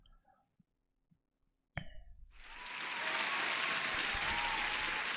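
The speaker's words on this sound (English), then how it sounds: "where's the soundboard for the applause?" After a few faint clicks and a brief knock, a soundboard applause effect swells in, a dense, steady wash of crowd clapping that builds over a second and then holds loud and even.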